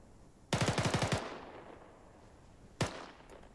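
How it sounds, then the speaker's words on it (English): A machine gun in Arma 3 fires one rapid burst of about seven loud, close shots at cyclic rate, followed by a single later shot and a fading echo. "So if they're dangerously close to you, then you'll do your cyclic rate of fire."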